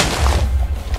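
TNT exploding in Minecraft, one heavy low boom that rumbles and fades over about a second, loud and close, with no voices.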